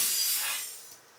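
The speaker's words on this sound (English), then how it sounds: "so this is kind of a ripping into two sound" A bright, hissy tearing effect meant to evoke something ripping in two, sounding like a glassy, crackling shred that fades over about a second.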